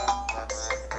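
A phone ringtone plays in short repeating electronic bursts, a quick bright pattern heard faintly over a steady low hum, with no talking.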